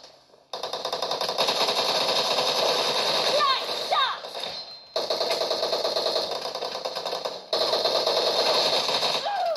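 Automatic gunfire rattles in PUBG Mobile, three long stretches of loud, rapid shots separated by brief pauses, with a few electronic chirps in the middle.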